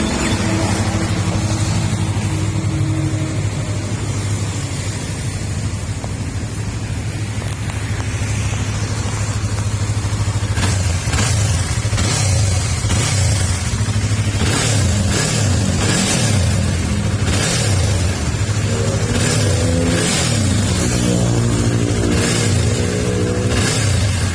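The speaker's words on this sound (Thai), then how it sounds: "ฟังเสียงเครื่องยนต์พร้อมๆเลยครับ" A 2018 Yamaha R3 motorcycle with 13,400 km idles steadily up close, then blips its throttle in repeated short revs and ends with a rising, higher-pitched rev, with no talk over it.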